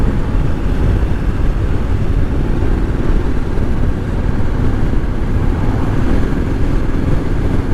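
Steady, loud engine drone with a deep rumble from a 2020 Triumph Street Scrambler motorcycle cruising continuously on the road without pauses or talk.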